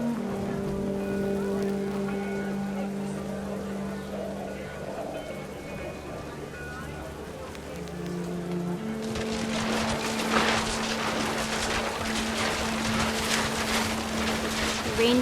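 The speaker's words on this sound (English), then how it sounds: "The rain came down in buckets then" Stormy wind and heavy rain in What Remains of Edith Finch, with a steady tonal drone first, then a broad hissing downpour that swells loud after the midpoint and continues to the end.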